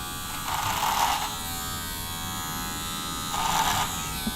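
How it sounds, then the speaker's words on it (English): Electric hair clipper run over the edge of a comb at a barbershop, buzzing in two short bursts about three seconds apart, close and fairly faint against a quiet background hum with no talk. "get my clipper on the edge of my comb"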